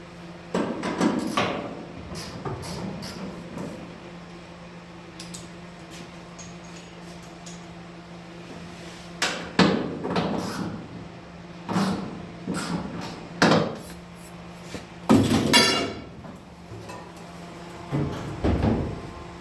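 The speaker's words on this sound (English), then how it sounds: "loosen up the hinge over there on the body and tap it back" Hammer tapping at a car hood hinge on the body, in irregular bursts of sharp metallic knocks separated by quiet gaps, close and fairly loud.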